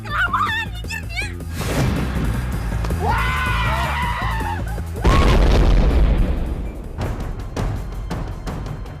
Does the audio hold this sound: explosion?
yes